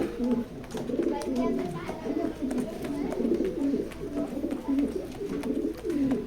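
Racing pigeons coo steadily in a loft, a soft repeating rolling murmur close by, while someone speaks over the birds throughout.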